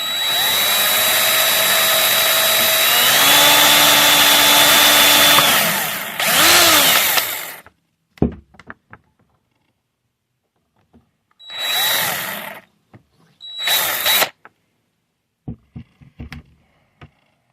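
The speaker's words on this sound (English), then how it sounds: "I'm going to drill a hole in here." A power drill whines loudly and continuously, rising in pitch, then stops; short bursts of drilling a hole in a sump pump pipe follow between quiet gaps and faint clicks.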